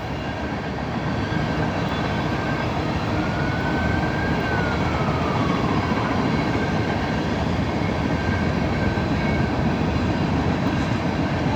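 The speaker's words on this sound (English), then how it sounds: "this train is a tanker train" A long Norfolk Southern tanker freight train led by an ES44AH locomotive rolls past with a continuous, even rumble and rattle of wheels and cars, steady throughout with a faint horn tone drifting in midway.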